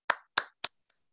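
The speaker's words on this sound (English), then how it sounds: "I'm going to try and clap" A single person claps three times, then two much fainter claps follow as the rhythm fades, with no other sound, at a virtual or in-person math lecture.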